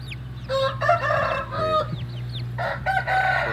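Repeated crows from a small rooster ring out close by, several drawn-out calls in a row over a steady low engine-like hum.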